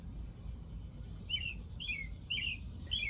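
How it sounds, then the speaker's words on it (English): Small birds chirp outdoors in short two-note calls, four of them spaced at steady intervals over a low rumble of wind and distant ambient noise. "These birds, the dogs, the wind, the frogs, the crickets, this is quiet for me."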